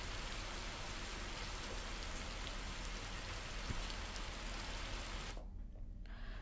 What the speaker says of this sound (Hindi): सुकमा में भारी बरसात से जनजीवन अस्त व्यस्त है